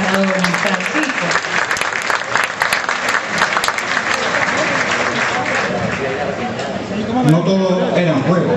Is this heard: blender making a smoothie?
no